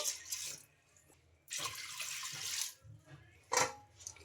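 Water gushes and splashes in bursts into a pot, poured by the cupful, with short pauses between pours and light clinks of a vessel, close by with no talking.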